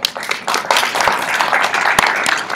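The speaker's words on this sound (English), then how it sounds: "Give a round of applause, give it up for them." Lively clapping from an audience after a high-level panel at a UN NGO leadership conference, starting scattered, then swelling into a busy, close patter with a few sharp louder claps.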